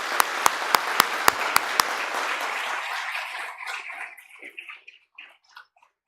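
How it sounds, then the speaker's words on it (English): Applause from a Boy Scout troop's families at an Eagle Scout Court of Honor, starting with several loud, sharp claps before a steady round of clapping that thins out and fades to a few scattered claps. "Let's give them a round of applause for supporting these young men."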